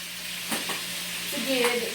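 Oil and salt sizzling in a cooking pot for a chicken and vegetable stew, a steady, moderately loud hiss with a couple of brief scraping stirs and a rising crackle near the end.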